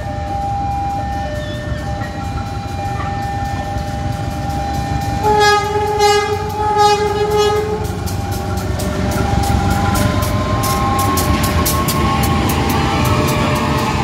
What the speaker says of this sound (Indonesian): Ini di sana ada kereta api.